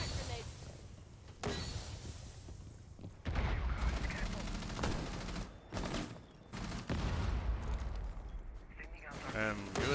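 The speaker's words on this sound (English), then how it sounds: "Throwing crack grenades." Crack grenades bursting in Rainbow Six Siege during a college esports match, several sharp loud blasts in a row with gunfire-like cracks, under a caster talking over game sound.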